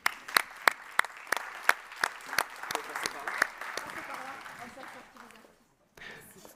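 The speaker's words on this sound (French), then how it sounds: "J'aimerais qu'on les applaudisse une nouvelle fois." An audience applauds with distinct, rhythmic claps from a modest crowd that blur into a thinner patter and fade to near silence, followed by a faint low murmur.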